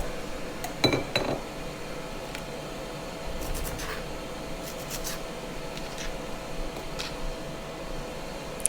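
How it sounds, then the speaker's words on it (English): Knife taps and light clinks of Brussels sprouts being cut in half and dropped into a mixing dish, a few sharp clicks over a quiet kitchen background. "cutting the Brussels sprout horizontally in the middle, and placing them in the mixing dish"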